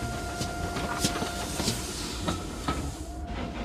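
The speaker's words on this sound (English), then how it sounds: "Meanwhile, James puffed along his route." A steam engine rolls along a railway line, steady rumble with faint rhythmic clicks of wheels over rail joints and a soft hiss, moderately distant and continuous.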